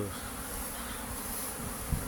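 Honey bees pour out of their shipping packages, a dense, continuous buzzing swarm close by, steady and moderately loud with no speech.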